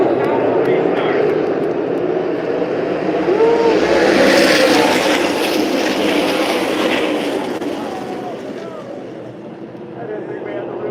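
Race cars at Irwindale Speedway roar together at a restart, a loud sustained engine drone swelling toward the middle and easing slightly near the end, with crowd or announcer voices faintly mixed in.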